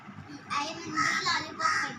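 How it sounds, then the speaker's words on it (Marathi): A crow caws three times in quick succession, harsh and fairly close, with faint background noise. "आणि कावळा आमचा काय खायला आलेला आहे"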